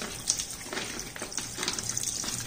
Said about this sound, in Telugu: వాటర్లో క్లీన్ చేస్తామన్నా